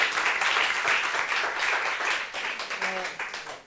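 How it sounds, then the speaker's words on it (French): An audience applauds for a woman at a gathering, brisk clapping from a group of people lasting a few seconds and tapering off at the end, with a voice briefly heard partway through. "On peut applaudir pour elle, s'il vous plaît"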